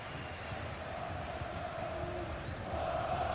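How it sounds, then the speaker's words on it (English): Stadium crowd noise in a football video game, a steady roar of fans urging a player forward, constant and fairly loud throughout. "The crowd encouraging him to take it on"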